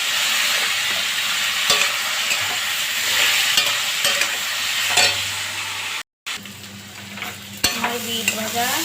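Beetroot fries in a pan with turmeric and salt, giving a steady loud sizzle with intermittent scraping stirs and a brief cut near the end.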